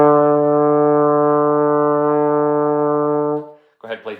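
A trombone holds a steady low D in fourth position for about three and a half seconds, a full, even brass tone, followed by a brief spoken voice.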